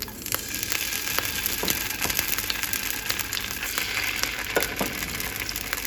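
Tomatoes going into a pan of Turkish menemen on a home stovetop, a steady close frying sizzle with scattered crackles and pops running throughout, no talking.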